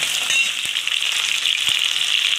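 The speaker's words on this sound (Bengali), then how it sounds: "আর দেখেন আলু ভাজছি" Potatoes frying in oil in a pan while cooking a mutton curry in a pressure cooker, giving a steady, close hiss with a few soft stirring knocks and no voices.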